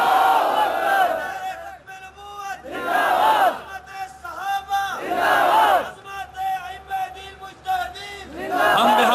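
A large crowd at a religious gathering roars a slogan in repeated loud, rhythmic bursts, with a lead voice calling and the mass answering in unison.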